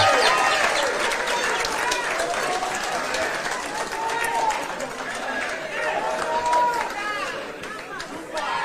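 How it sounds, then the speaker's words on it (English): A large crowd at a political event with the Kenyan prime minister and president claps and cheers amid excited chatter, with loud, continuous applause while voices carry through the hall. "Another loud of applause for Baba wa kila mtu."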